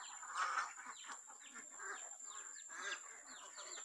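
Chickens in a coop being fed, with soft clucks and chirps scattered across the clip, faint and close, over a quiet steady background hum.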